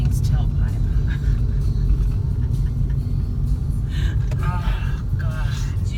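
A Lamborghini's exhaust rumbles deep and steady throughout, heard at a street in Hoover, Alabama. Someone talks over the continuous low drone.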